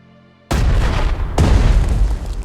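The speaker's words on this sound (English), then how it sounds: "Select the artillery and attack the nearest infantry unit." Artillery in the WWII strategy game Strategic Mind: Blitzkrieg firing on infantry: two loud, close booms about a second apart, each sharp onset trailing into a heavy rumbling tail, with no talking.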